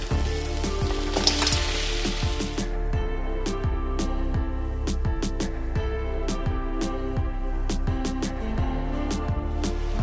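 Crab and potatoes fry in a thick spice masala for a Bengali crab curry, a dense close sizzle at first that gives way to rhythmic scraping stirs and clattering knocks of a spatula against the pan.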